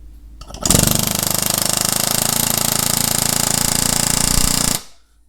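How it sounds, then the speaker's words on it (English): A power tool, likely an impact wrench, tightens the axle nut on a 2011 Toyota Sienna during CV boot repair, one loud continuous hammering burst of about four seconds that then stops, with no talking. "Tighten the axle."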